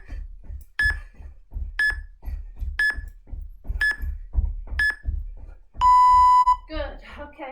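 Interval training timer sounding five evenly spaced short electronic beeps about a second apart, then one longer sustained tone, heard over a steady low rhythmic music bed with a voice entering at the end.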